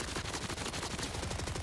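Rapid automatic gunfire from Borderlands 4 combat against enemies, a dense continuous burst of shots close and loud with no talking.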